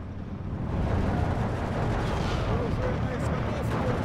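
Mortar fire and shell impacts in the World War II strategy game Steel Division 2, heavy booming blasts that roll into a continuous rumbling barrage, loud and dense throughout with some talk mixed in.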